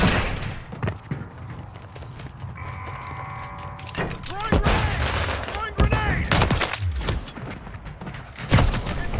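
Gunfire in Modern Warfare III during a sniping match on Terminal: a string of sharp, close shots and impacts among busy game noise, with people talking over the action.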